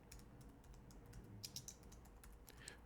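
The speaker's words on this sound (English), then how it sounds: "So let's type that in." Faint keystrokes on a computer keyboard, a handful of light taps clustered together over low background hum, typed while entering a metadata file name in Native Instruments Maschine software.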